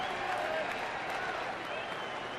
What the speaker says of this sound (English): Crowd gets into it early here tonight.